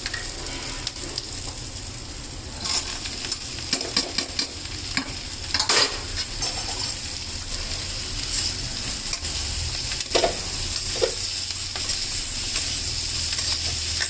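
Fenugreek leaves fry and get stirred in a hot pan, giving a steady close sizzle with scraping stir strokes throughout and no voices.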